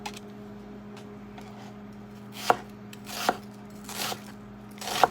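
A knife chops a big onion on a cutting board, a handful of close, sharp, unevenly spaced knocks over a quiet kitchen hum, with no talk.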